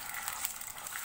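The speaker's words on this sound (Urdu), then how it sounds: "چکن کو ہائی فلیم سے فرائی کرنا ہے" Chicken frying over a high flame for Peshawari charsi karahi gives a steady, soft sizzle, alone and fairly quiet with no talk.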